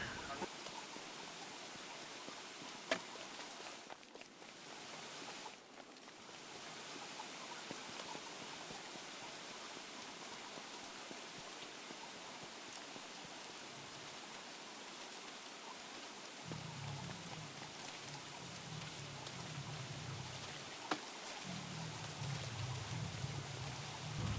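Steady rain falls in the video game Don't Starve Together, a continuous broadband hiss that holds through the whole stretch, with a low rumbling layer joining in during the final seconds.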